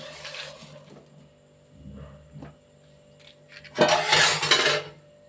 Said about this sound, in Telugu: గిన్నె పెడుతున్నానండి